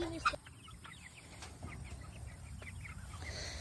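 Soft clucking and chirping from several chickens nearby, a low steady background of scattered calls with no one speaking.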